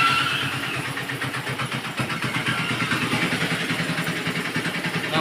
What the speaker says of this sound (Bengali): আমাদের কিন্তু ভটভটি গাড়ি যাচ্ছে,